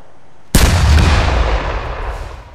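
A firework rocket launches with a sudden sharp bang, then its loud, booming burst rumbles and fades slowly over the next two seconds, with no talking.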